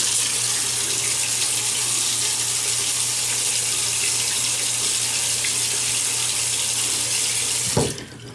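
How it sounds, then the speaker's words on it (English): A tap runs steadily into a sink as water wets a face before shaving, a constant close hiss and splash that cuts off near the end. "so let me wet the face"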